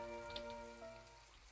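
Quiet, even rainfall on a rainy day in My Time at Portia, a soft steady patter of drops under a faint tonal game hum, with no one talking.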